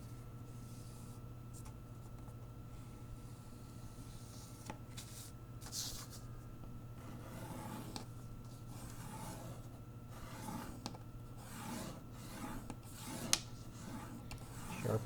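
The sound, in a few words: rubbing to sharpen a crease in paper model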